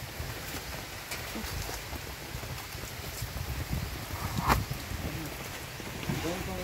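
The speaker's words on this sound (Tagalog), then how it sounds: "Grabe yung ulan. Umulan na naman, oh." Heavy rain falls steadily on a house with a roof and walls, a continuous broadband hiss with scattered patters, while people talk nearby.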